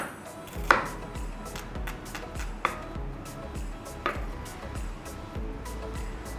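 A knife slices onions on a cutting board in a home kitchen, giving a steady rhythm of crisp close-up chops with a few sharper, louder knocks and no talking.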